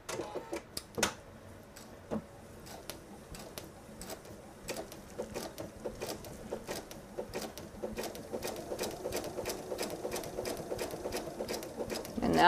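A sewing machine stitches a patriotic disappearing nine patch quilted table runner, its needle running in a steady rapid rhythm close by with brief clicks and pauses, then speeding into a continuous whir toward the end.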